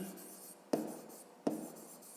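Pen strokes on paper during a fifth-grade geometry exercise, two short scratchy bursts a little under a second apart, each sharp at the start and then fading, in a quiet room.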